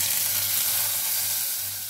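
Hot tempering spices sizzle steadily as they are poured into bottle gourd raita, a continuous close, bright frying hiss with no talk.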